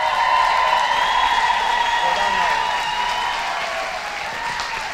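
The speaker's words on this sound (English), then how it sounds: "would you please give them a huge round of applause?" A crowd applauds charity dancers at a Strictly-style dance show in Silvermines, sustained dense clapping that holds steady and then eases slightly toward the end, with no voices over it.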